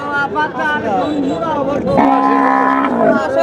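A calf moos with long, loud, drawn-out calls at a busy rural cattle market in Jamalpur, Bangladesh, heard up close over a steady murmur of nearby voices and crowd noise.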